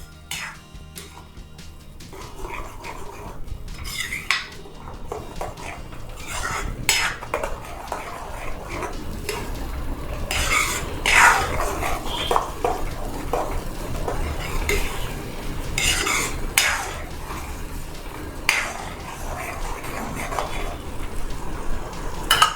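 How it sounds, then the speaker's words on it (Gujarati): A tomato spice paste is stirred continuously in a pan, with repeated scraping and clinking of the spoon against metal over a low sizzle that grows steadier as it goes on. "આ પેસ્ટને બરાબર ચડવી લેવાની છે, સતત હલાવતા રહીને તેને ચડવી લઈશું"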